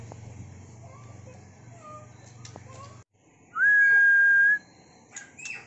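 Male white-rumped shama (murai batu trotol) of the Nias Raja strain sings one loud, clear whistled note lasting about a second, close by, over steady background noise with a few faint chirps.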